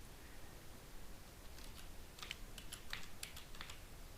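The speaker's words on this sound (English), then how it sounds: "And you type in your version name." Faint, sparse keystrokes on a computer keyboard in a quiet room, a loose irregular run of soft clicks starting partway through.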